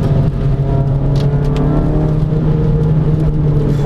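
A Renault Clio 200 with upgraded Koni Sport suspension drives hard from inside the cabin, its engine a loud, steady drone with slight revving swells and some road and tyre noise beneath.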